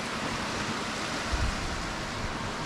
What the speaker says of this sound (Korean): 파도는 이쪽은 그래도 저쪽보다 파도가 좀 약한 것 같은데